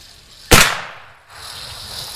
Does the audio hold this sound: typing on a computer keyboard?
no